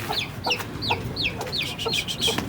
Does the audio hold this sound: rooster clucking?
yes